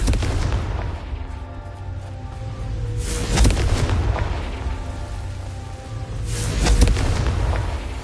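A Confringo curse in a Harry Potter video game sets off deep booming explosions, two heavy blasts a few seconds apart that roll out into a low rumble, loud and close.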